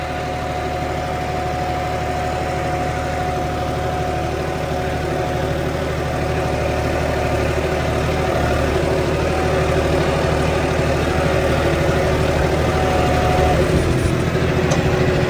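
A tractor engine with a power upgrade runs at high RPM, a steady dense drone with strong low harmonics that holds evenly and rises slightly toward the end, close and loud with no talking.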